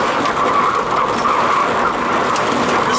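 A car drifts through a corner on a track, its engine roaring loud and steady with a continuous tire-squeal hiss across the whole stretch, close by and without talk.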